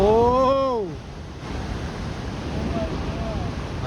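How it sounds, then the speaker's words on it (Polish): Huge ocean waves crash at Nazaré, Portugal, in a steady, loud roar of surf mixed with wind, after a voice speaks briefly at the start. "Spójrzcie, jest ogromna fala."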